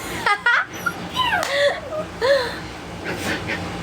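A dog whimpers and yips in short, high-pitched bursts, close by, with a person's voice mixed in.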